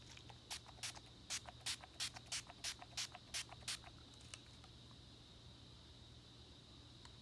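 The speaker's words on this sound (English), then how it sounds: "I'm going to use the Urban Decay All Nighter Makeup Setting Spray. I'm going to spray it myself." A makeup setting spray bottle hisses in about ten quick, evenly spaced spritzes close by, then stops, leaving a faint steady hum.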